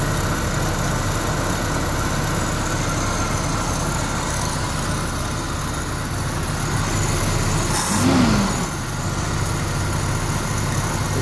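A car engine fitted with a Weber 32/36 carburetor runs at a steady fast idle up close, a constant droning hum with a brief swell and whoosh near the end.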